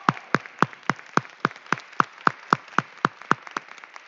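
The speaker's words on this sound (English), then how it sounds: "let's give our class of 2020 one more big round of applause" A lone pair of hands claps at a high school graduation ceremony for the class of 2020 in a gym: about fifteen crisp, evenly spaced claps at a brisk steady pace, fairly quiet against an otherwise silent background.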